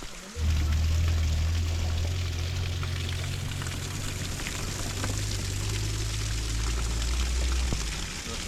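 Meltwater runs steadily from a partly frozen waterfall in spring in Yakutia, a continuous close splashing trickle with a low rushing undertone that holds throughout.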